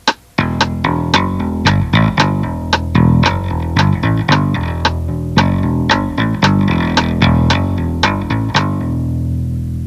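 Rapid tapped electric guitar notes ring out in a quick, steady pattern over a metronome click, a bright melody with sharp attacks layered over sustained lower tones.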